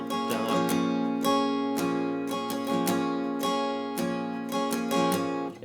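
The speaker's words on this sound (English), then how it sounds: "So I would do this for the strum pattern." An acoustic guitar is strummed softly with a pick in a steady down-up pattern, ringing chords with crisp pick attacks on each stroke, close and alone without talk.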